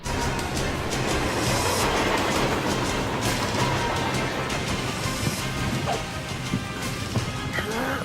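A train from a PS1 video game rumbles steadily with rattling, clattering wheels and occasional metallic clanks, a dense continuous roar from start to finish.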